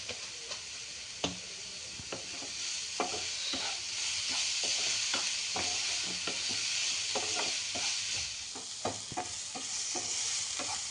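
Spices with a little turmeric and asafoetida dry-roasting in a pan for a spicy village-style brinjal bharit, scraped and stirred in frequent sharp clicks over a soft, steady sizzle, close and alone.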